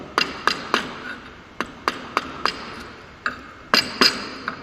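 Mortise chisel striking wood while a dovetail joint is cut, a series of sharp, close taps in uneven clusters with short pauses between them.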